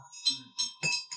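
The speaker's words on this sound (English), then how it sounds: "Then you just softly, gently, like, ring the bell." A small ritual hand bell used in a Buddhist Amitayus mudra practice is rung softly, giving several light bright chimes in quick succession with a sustained high tone, close and gentle, no speech.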